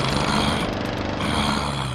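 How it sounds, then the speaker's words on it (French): Lawn mower sweeping across a lane of zombies in a homemade 3D version of Plants vs Zombies, a loud, steady mechanical rattling drone that holds for about two seconds with no talk over it. "j'ai dû laisser une tondeuse finir le travail"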